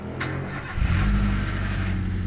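A car engine cranks briefly and catches, settling into a smooth steady idle close by after a battery-related reset, with no hesitation in the start.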